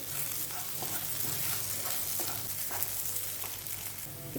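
Sliced ivy gourd stir-frying in an uncovered pan makes a quiet, steady sizzle with soft crackles and small stirring taps, heard alone without speech.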